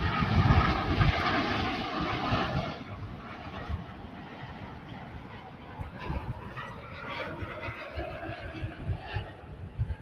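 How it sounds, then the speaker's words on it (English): An American Airlines Boeing 787 Dreamliner, Flight 280 from Seoul, comes in to land at DFW Airport as a loud jet roar that eases slightly and then rumbles on steadily. "that's what you call your Dreamliner coming in from Seoul, South Korea, American Flight 280"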